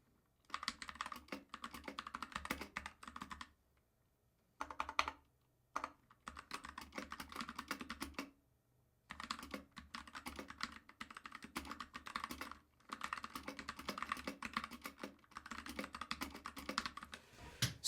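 Close-up typing on a Freewrite Hemingway Edition keyboard: quick runs of crisp keystrokes broken by a few short pauses, alone and fairly quiet, with no talking.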